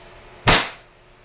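A single sharp pop from a WE airsoft 5.1 Type K gun fired over a chronograph, a sudden loud crack that decays quickly into quiet.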